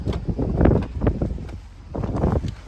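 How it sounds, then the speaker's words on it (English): Outdoor wind gusting in uneven, rumbling waves across the microphone, loud and buffeting, with no talking. "get out of this wind."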